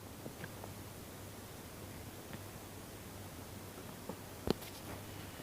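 An HP EliteBook Folio 9470m laptop's cooling fan runs while the machine boots, a faint, even hiss with a few small clicks and taps nearby.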